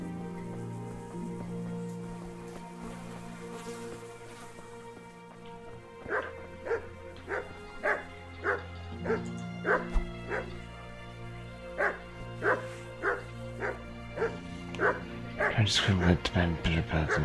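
A dog barking in the video game Kingdom Come: Deliverance, a regular series of about a dozen sharp barks over a rainy ambient game soundscape, with a louder burst near the end.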